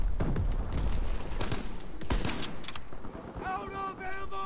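Dense, rapid suppressing gunfire rattles close and loud in a Call of Duty WW2 battle for a command post, with sharp bursts and booms throughout and a ringing tonal chime near the end.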